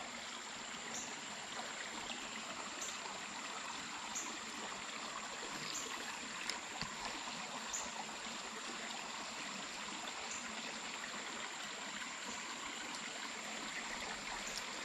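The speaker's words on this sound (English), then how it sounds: "it's a tiny creek" A tiny runoff creek near Lake Bennet flows over small bluffs, making a steady, close burbling rush with occasional soft splashes and no voices.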